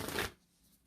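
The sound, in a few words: drawing a card from a numerology deck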